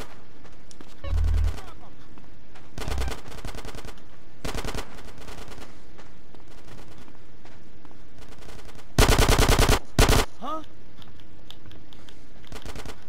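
Gunfire in the video game Grand Theft Auto: San Andreas, sharp bursts of automatic shots and single cracks spread over the scene, the loudest rapid volley coming late, with in-game voices speaking between the bursts.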